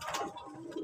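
A fancy pigeon coos in one brief, soft, throaty burst, heard up close.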